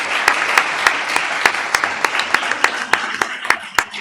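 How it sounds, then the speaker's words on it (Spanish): A small group at an academic sociology conference session claps in a brisk, irregular rhythm for a few seconds for the speakers, the individual claps sharp and close. "Un aplauso a todos los ponentes."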